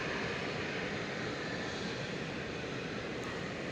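A broad, continuous roar of an airplane approaching DFW Airport, steady and moderately loud, like a distant jet engine rumble with no voices.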